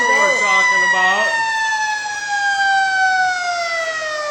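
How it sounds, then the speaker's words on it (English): A fire truck siren at a homecoming parade wails loud and close, one rising-and-falling sweep followed by a long, slowly descending tone. "This one's got to have a siren, too."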